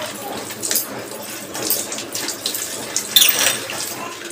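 Okra is washed under a running kitchen tap, with steady, close water flow and irregular splashes as the pods are handled, and no clear talk.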